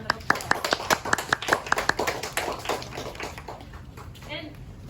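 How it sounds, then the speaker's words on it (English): A school assembly audience claps for award recipients, a burst of close, crisp handclaps that thins out and fades after about two seconds. "Let's give these guys a round of applause."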